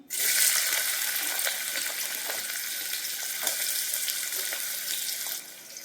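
Chopped onions fry in hot oil in a pressure cooker on medium flame, giving a loud, steady sizzle that holds for several seconds and drops off sharply at the end, with no voices.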